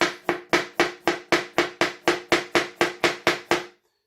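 Eight-inch chef knife chopping through a tomato on a board, about fourteen sharp, evenly spaced cuts in quick rhythm, close and clear, then silence.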